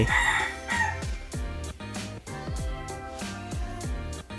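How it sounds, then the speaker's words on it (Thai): A rooster crows repeatedly in a long, close, loud series of cock-a-doodle-doo calls, with clucking fowl and other farm birds mixed in behind. "ไก่ขันไม่หยุดเลย"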